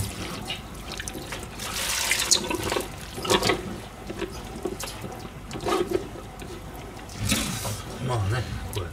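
Tap water runs intermittently in a kitchen sink during dish washing, with splashing bursts and clattering as items are rinsed, while a person talks over the sound.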